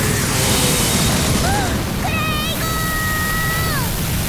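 A Noble Phantasm explosion animation in Fate/Grand Order makes a sustained, roaring blast of broadband noise, overlaid midway by bright chiming tones that rise and then fall away.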